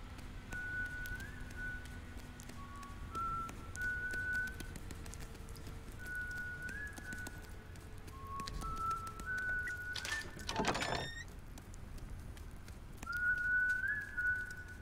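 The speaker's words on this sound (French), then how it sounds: "Il y a un sifflement, je me demande si c'est pas Silas." In the game Ghost of a Tale, several short whistled notes repeat at intervals over a quiet background hum, with a brief burst of noise partway through.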